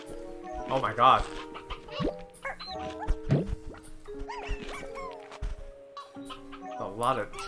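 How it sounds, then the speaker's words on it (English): Chickens in the video game Slime Rancher 2 cluck, squawk and call in a busy, overlapping flock. The sounds are close and fairly loud and run the whole way through, with short chirps and honks mixed in. "A lot of chickens."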